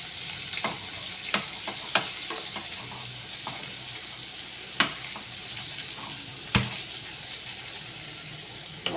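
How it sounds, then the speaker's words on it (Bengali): Masala spices fry in a kadai for a fish curry with taro and potato: a steady soft sizzle with stirring, broken by a few sharp clinks of a utensil against the pan, with no talking. "আমি তাহলে এইদিকে মশলাটাকে ভেজে নিই।"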